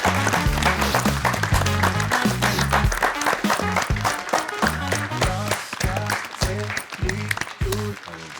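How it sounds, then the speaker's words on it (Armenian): Studio audience applauding to welcome a guest on an Armenian evening talk show, a broad wash of clapping laid over loud, rhythmic band music throughout. "Եկեք բարձր ծափարություններով եւ աղմուկ աղաղակներով այստեղ հրավիրենք կասկածելի հյուրին։"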